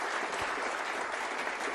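Snooker crowd applauding at the Crucible during the 2023 World Championship, a dense steady patter of clapping that fills the hall throughout, with no voices.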